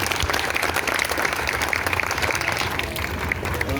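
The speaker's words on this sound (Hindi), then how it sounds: "जोरदार तालियों से अभिनंदन करना चाहिए।" Loud, dense clapping from a school audience at a Guru Purnima yoga event greets an honoured guest, a continuous roar of many hands holding strong for the few seconds heard.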